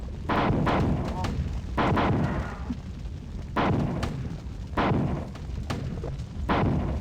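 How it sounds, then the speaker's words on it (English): Gunfire and explosions in the video game Marathon 2: Durandal, heavy booming blasts and bursts of shots repeating at irregular intervals over a constant loud rumble. "Why are they shooting me?"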